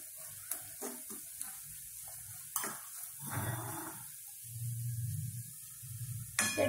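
Masala with turmeric and curry leaves sautéing in a pan for a Maharashtrian dal vangi, with a steady sizzle and a few spoon scrapes and clinks, moderately close.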